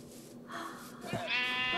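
A llama in the Minecraft video game gives a wavering, nasal bleat that gets louder and rises near the end, heard close and alone over a low game background.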